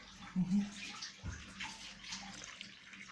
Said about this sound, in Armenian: Արդեն լցնում ենք ջուրը